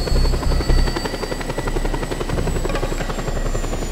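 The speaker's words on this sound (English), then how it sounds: "I will actually move this helicopter out of the way," A helicopter in a video game gives off a loud, steady rotor chop and engine buzz that stays close and continuous throughout, with no talking.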